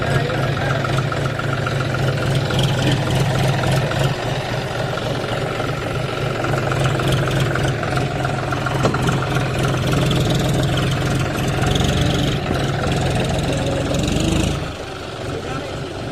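A farm tractor engine runs steadily at a loud, close idle with a deep low throb for about fifteen seconds, then drops sharply quieter near the end; no talk is heard over it.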